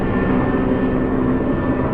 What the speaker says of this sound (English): Yes, it's the same helicopter.